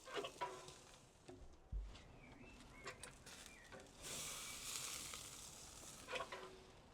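Burger buns toast in a hot pan with a soft, steady sizzle, broken by a few light scrapes and taps of handling; a brighter hiss swells briefly midway.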